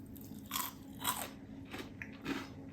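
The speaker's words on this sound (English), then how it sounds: "So here they are, the roasties. Listen to that crunch." Crisp roast potatoes, crunchy outside and fluffy inside, crunch as they are bitten in a cottage at Christmas, four distinct close crunches in an uneven rhythm against a quiet room.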